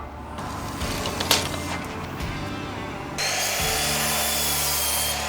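A saw cuts 2x4 lumber into lengths, giving a steady rasping drone that grows louder partway through, with a sharp knock near the start and no talking.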